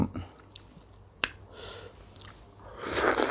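Close chewing of a fresh, sweet, juicy peach, soft wet squishing bites with one sharp snap-like bite and louder moist mastication toward the end.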